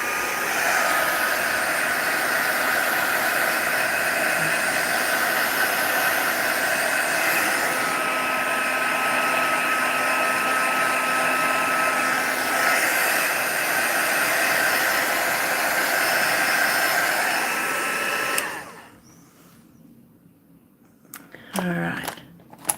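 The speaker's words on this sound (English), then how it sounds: "So I'll just use this Crafter's Choice heat tool here just to dry this off a bit." A Crafter's Choice heat tool blows hot air to dry alcohol ink on Yupo paper, a loud steady rushing hum that runs unbroken for most of the span before cutting off, followed by quiet handling noises.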